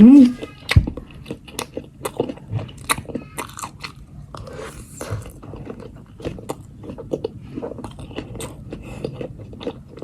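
Korean instant noodles topped with cheese are eaten up close, with crisp bites, slurps and chewing crunches scattered unevenly throughout.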